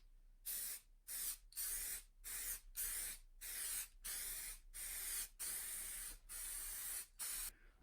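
Rattle-can spray painting of wargame terrain baseplate tiles: repeated close hissing bursts about half a second to a second long, broken by quick pauses, with no talk over them.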